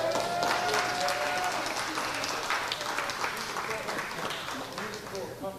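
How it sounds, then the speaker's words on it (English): An audience at a homeless union anniversary celebration gives a steady, dense round of applause, moderately loud and continuous, with faint voices mixed in. "Can we get another round of applause for her?"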